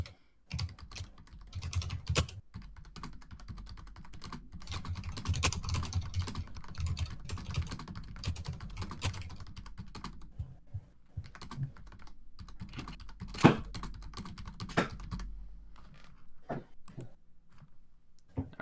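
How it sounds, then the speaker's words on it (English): Rapid typing on a computer keyboard, close and distinct, with bursts of clattering keystrokes and brief pauses between runs, no voices over it. "Now let me just type this bad boy up."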